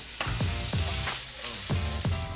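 Shrimp sauté in a hot pan, giving a dense, loud sizzle that runs throughout, with rhythmic stirring or tossing strokes repeating about every half second.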